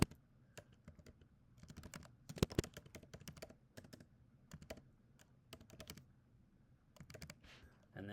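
Quiet, irregular typing on a computer keyboard, soft key clicks in uneven bursts with brief pauses, close by and heard alone.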